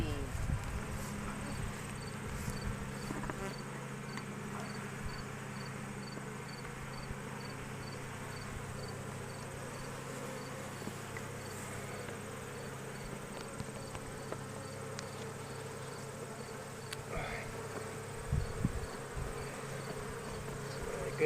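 A steady, low drone of many honeybees buzzing at an open hive during a hive inspection hums continuously close by, with faint voices now and then.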